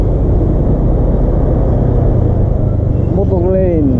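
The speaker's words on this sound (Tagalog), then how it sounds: "Motorcycle." A Honda Beat motorcycle rides along a road near a quarantine area in Makilala, giving a steady, loud engine and road rumble with wind noise throughout, and a brief faint voice near the end.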